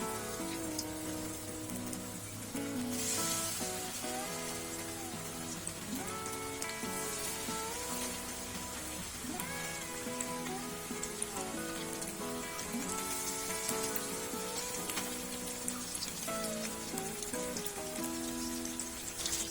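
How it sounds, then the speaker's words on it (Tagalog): Chicken pieces fry in hot oil over medium heat, a steady soft crackling sizzle running throughout beneath background music, with no talk. "pwede na natin prituhin yung ating mga chicken"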